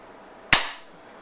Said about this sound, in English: when you shoot even higher power, it didn't make the gun more noisy